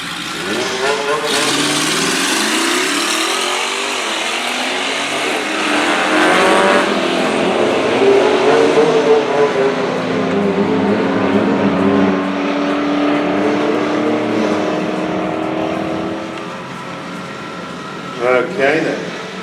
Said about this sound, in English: I'm going to go and run again and see what happens